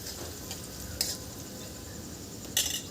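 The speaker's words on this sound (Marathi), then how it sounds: "हे मसाले आपल्याला 1 मिनिट छान असं परतून घ्यायचं आहे तेलामध्ये" Spices with salt and chillies sautéing in hot oil for a radish leaf bhaji, a low steady sizzle with a couple of brief scraping stirs of a spoon against the pan.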